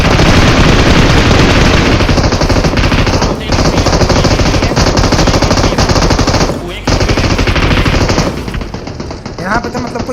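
Dense, loud bursts of automatic gunfire from all sides during a close-range firefight on a rooftop in the mobile battle royale game PUBG Mobile, rattling almost continuously with a few brief gaps.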